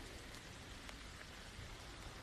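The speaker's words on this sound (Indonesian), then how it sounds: "Hujan." Rain pours down steadily, a faint, even hiss of drops with no other sounds over it.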